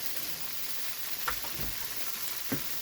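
A steady sizzle of tofu frying in canola oil as finely diced shallot is stirred in, with a couple of soft scraping stirs of the utensil against the pan over the constant hiss.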